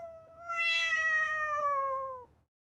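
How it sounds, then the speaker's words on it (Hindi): A single drawn-out cat meow, clear and close, rising then slowly falling over about two seconds before stopping abruptly, alone against a quiet background. "ये बिल्ली भी बातें करने लगी"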